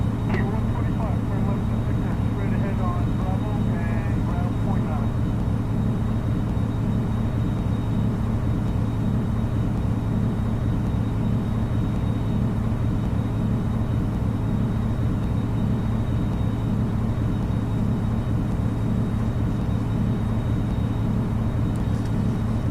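A United Airlines 747 cruises in X-Plane 8, its steady engine drone filling the cabin as a constant loud rumble and hum, with someone talking over it.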